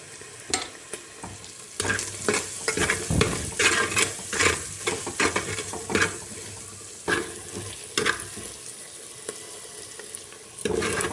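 Food with salt and turmeric is stirred in a clay pot, with repeated scraping strokes over a steady sizzle, close and fairly loud, with the odd clink of the utensil.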